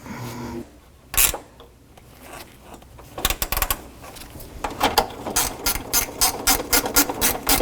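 A ratchet snugs up two bolts on the water pump inlet tube of a 1984-2001 Jeep Cherokee. It makes a close run of sharp, rhythmic clicks that grows steadier and louder toward the end, after a few isolated knocks.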